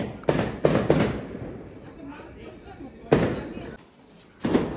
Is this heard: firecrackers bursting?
yes